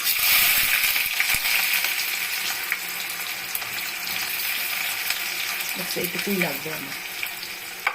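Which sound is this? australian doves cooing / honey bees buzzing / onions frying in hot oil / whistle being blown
onions frying in hot oil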